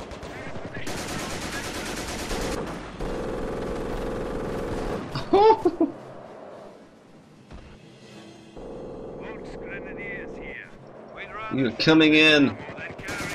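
Bursts of gunfire and machine-gun fire from the Company of Heroes strategy game come in loud clusters, alongside sustained battle noise, with players talking and shouting over the fighting.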